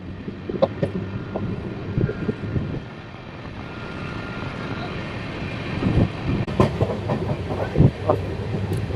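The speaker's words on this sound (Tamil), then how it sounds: "சிக்னல் இப்போ தான் கிளியர் பண்ணிவிட்டாங்க மக்களே. ட்ரெயின் கிளம்பிடுச்சு." A departing train on the Tiruppur to Palakkad route rumbles and clatters along the tracks, wheels clicking rhythmically, with some voices in the background.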